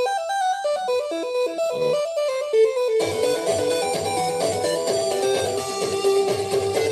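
Bright chiptune Game Boy music plays in quick, bouncy square-wave notes, a sparse melody giving way to a fuller, busier passage, steady and clear with no talking.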